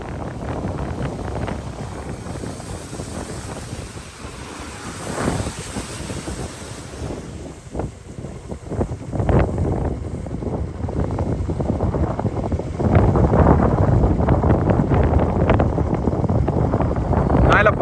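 Floodwater rushes across a submerged street in heavy rain, a continuous loud wash of churning water with wind buffeting the microphone, swelling louder toward the end.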